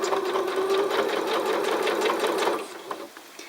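A sewing machine running a lock stitch hums steadily and close for about two and a half seconds, then stops, leaving faint room noise.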